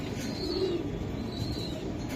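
Budapest and racing pigeons give a low, soft coo near the middle over a constant background hum, faint and brief.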